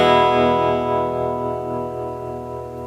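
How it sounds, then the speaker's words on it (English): A 1966 Gibson GA-15RVT guitar amp with its tremolo turned up sustains a rich guitar chord that wavers gently in volume and slowly fades, with no talking. "I turn up the tremolo itself."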